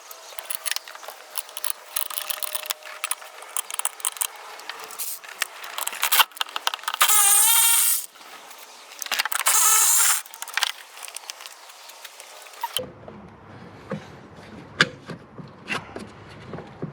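Bolts being worked off the brake master cylinder of a 1989 Camaro, with close, busy tool noise and two sustained loud whirring bursts partway through, then quieter clicking and handling sounds.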